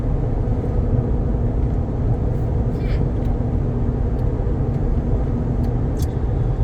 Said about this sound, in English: Here goes a GTI